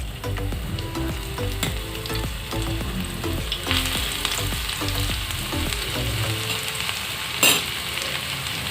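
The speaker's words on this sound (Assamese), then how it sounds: "তেলখিনি গৰম হৈ গ'ল, তাতে 1 চামুচ ৰহুন দি দিছোঁ" Crushed garlic frying in hot mustard oil in a pan, a strong steady sizzle with stirring scrapes and occasional clinks, close and loud throughout, with a sharp knock near the end.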